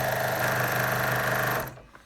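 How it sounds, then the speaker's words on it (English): A sewing machine stitching t-shirt quilt rows together, a rapid even mechanical chatter with a steady hum, close and loud, running for about a second and a half before stopping abruptly. "you're just seeing me stitch right now"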